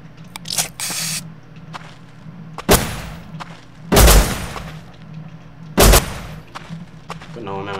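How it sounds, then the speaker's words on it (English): Gunshots ring out in the Rust Legacy survival game, three or four loud, sharp broadband bursts spaced a couple of seconds apart over a low steady background hum, with a few smaller clicks and scrapes between them. "He's shooting at me."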